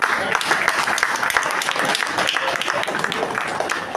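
Sustained audience applause fills the hall at a disability gathering hosted by a school, dense overlapping claps at steady loudness throughout, with no speech over it.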